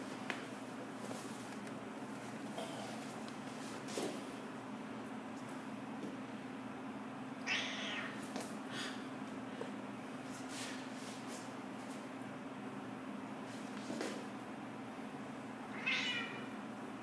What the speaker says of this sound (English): He's a Bengal and Maine Coon.